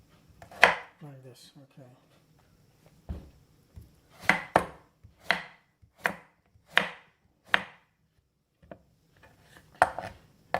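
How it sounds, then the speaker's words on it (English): A knife chops bottle gourd into square pieces on a cutting board, about ten crisp, evenly spaced chops with quiet gaps between them and a brief spoken remark early on. "so we will cut them in square pieces"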